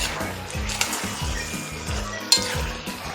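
Ingredients being stirred together in a bowl for an iftar salad, giving repeated soft scraping and clinking strokes in a steady rhythm, close and moderately loud, with one sharper clink near the end.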